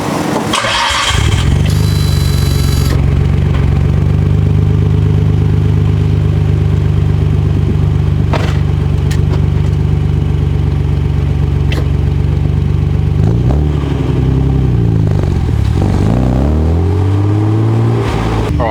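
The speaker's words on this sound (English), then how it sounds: "hopefully you guys can hear some awesome exhaust noises" A Nissan R34 GTR with Japanese registration fires up with a sharp starter burst, then settles into a loud, steady deep idle from the engine and exhaust before a few throttle blips rise and fall near the end.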